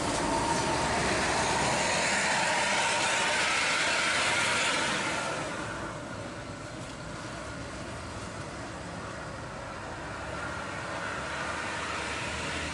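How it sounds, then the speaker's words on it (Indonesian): A Transport Express intercity bus pulls away toward Jakarta, its loud broadband engine and road roar filling the first seconds before fading into a steadier, quieter rumble as it moves off. "bus Transport Express langsung bertolak keluar menuju Jakarta dan sekitarnya"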